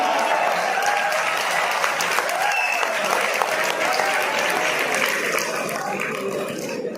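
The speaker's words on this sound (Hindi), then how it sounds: "ठोको ताली।" Steady, dense applause from a large crowd at a Hindi comic poetry gathering fills the whole stretch, holding loud and even before easing slightly near the end.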